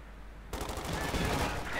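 Gunfire in the World War II strategy game Company of Heroes 2 bursts in after a quiet half-second, a dense rattle of shots and battle noise with commentary running underneath.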